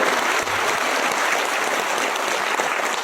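An audience at a political party gathering claps loudly and continuously to welcome a speaker, a dense, sustained wash of applause with no talking.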